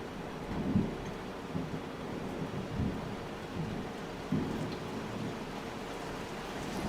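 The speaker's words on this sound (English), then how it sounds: "I really hope the microphone isn't picking up the crazy thunder that's happening right now" Thunder rumbles faintly through a thunderstorm, with a few soft low booms standing out over a steady hiss of rain.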